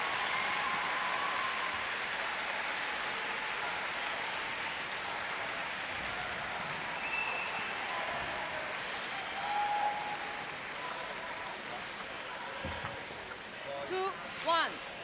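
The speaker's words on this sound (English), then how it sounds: "And there's claps in the crowd as well." At a London 2012 Paralympic table tennis match, a crowd in the arena claps in a steady wash of applause, with an announcer talking over it throughout.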